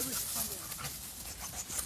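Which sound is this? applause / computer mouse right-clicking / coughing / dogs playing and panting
dogs playing and panting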